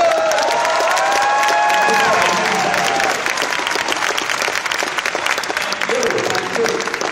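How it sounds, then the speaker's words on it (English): Live convention audience at a comic-book fan event breaks into sustained applause mixed with cheers and whoops, loud and dense throughout, with some voices rising above the clapping. "maybe everybody give him a round of applause"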